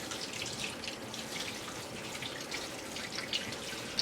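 Tap water runs steadily over a lobster being rinsed, a continuous close hiss and splatter that fills the short stretch with no voices.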